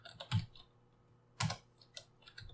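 Keystrokes on a computer keyboard while coding in Java, a couple of sharp loud clacks followed by lighter scattered taps, close and with no voices.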